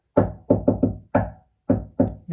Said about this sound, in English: If we hear a knock like that, knock once, not twice